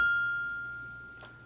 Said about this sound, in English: the sound of the bell means it's time to begin